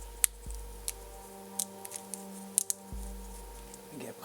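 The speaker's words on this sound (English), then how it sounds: "Get my scissors out because this is put together very tightly." Scissors snipping at tightly assembled packaging around a ProK BD bass drum eurorack module kit: several sharp, separate clicks and snips close by over a low steady hum, with no talking.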